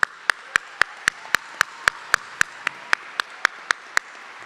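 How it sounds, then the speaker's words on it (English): Commencement crowd greeting graduates with applause, heard as a steady train of sharp, evenly spaced claps, about three per second, fairly loud and close with no talk over it. "let's give them a round of applause"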